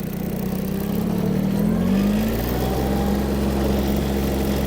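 A Mitsubishi MT-155 mini tractor engine rises steadily in pitch as it accelerates in a high gear with four-wheel drive, a loud, close mid-range drone that levels off into a sustained hum.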